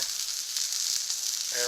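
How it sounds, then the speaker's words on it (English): Hash browns and sausage frying on a Blackstone griddle give a steady, close hiss of sizzling fat, with a short burst of voice near the end. "Beautiful crust on the hash browns. Sausage is going."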